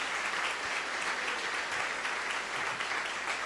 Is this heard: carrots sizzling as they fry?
no